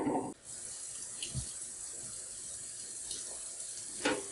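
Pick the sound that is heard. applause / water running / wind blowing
water running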